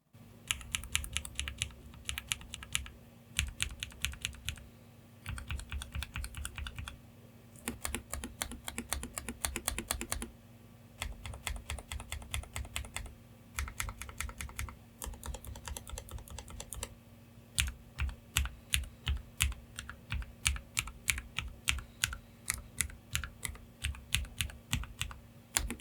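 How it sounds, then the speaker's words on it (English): Rapid clacky typing on a Lofree Flow mechanical keyboard comes in bursts separated by short pauses, crisp and close. "I'll just let you decide with a sound test"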